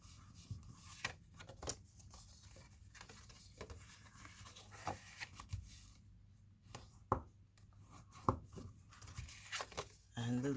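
A sheet of A4 paper being folded along its score lines into a small Christmas calendar stocking filler, giving soft scattered creases, rubs and crisp paper snaps, a few sharper close folds standing out against quiet room hiss.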